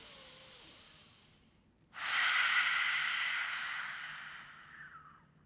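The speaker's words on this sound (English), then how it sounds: "Inhale through the nose, nice and deep into the belly. And then out through the mouth like you're fogging up a mirror." Deep yoga breath: a soft nasal inhale, then a strong, breathy open-mouth exhale that holds steady for several seconds and slowly tails off. It is close and clear, with no talking.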